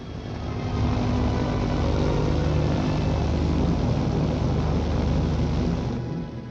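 A Beagle 206 twin-engine business aircraft gives a steady, broad propeller and engine drone that swells in, holds evenly for several seconds and fades slightly at the end, with no voices.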